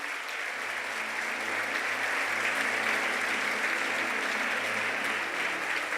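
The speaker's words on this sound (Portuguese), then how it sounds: "Aplauda Jesus, porque Ele merece." A church congregation bursts into sustained applause, a thick, even roar of many hands clapping at steady loudness throughout, with no voices standing out.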